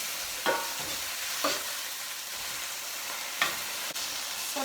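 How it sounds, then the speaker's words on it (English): Chicken curry with tomatoes cooking in coconut in a pan gives a steady, soft sizzle, broken by a few brief scraping stirs at uneven intervals. "So I'm going to add the tomatoes."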